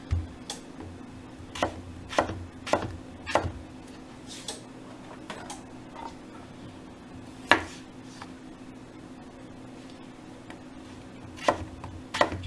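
Potatoes cut into slices for Spanish tortilla, sharp knife strikes on a cutting board landing in irregular bursts and singles with pauses between, close, over a faint steady hum.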